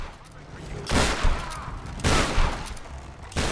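Shotgun blasts against enemies in the video game Tomb Raider Definitive Edition, at the monastery: two loud, close booms about a second apart, then a third at the end, each with a sharp crack and rumbling tail over low game ambience.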